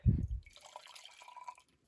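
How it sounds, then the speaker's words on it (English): A soft thud followed by a short, thin trickle of double-shot espresso pouring into a coffee cup, close and quiet, tapering off within a couple of seconds. "I'm now going to take my double shot of espresso with all that crema on it, put it into my coffee cup"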